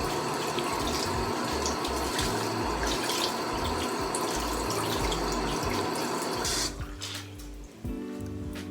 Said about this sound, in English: And now we're gonna move on to cleaning the Aliexpress sponge.